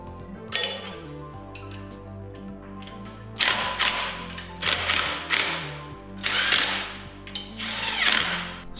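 A ratchet tightens bolts on the torque converter cover brackets of a GoPowerSports Mega Moto 212 minibike, with close, rapid clicking pawl bursts, metallic clinks and handling noises that come in uneven spurts.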